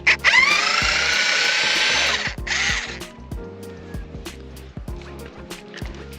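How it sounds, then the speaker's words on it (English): A power screw gun drives screws while BMW parts are fitted to a Kia Stinger, one loud buzzing whir lasting about two seconds, then a second short burst, followed by scattered clicks and clatter of handling. "You can use a gun if you want."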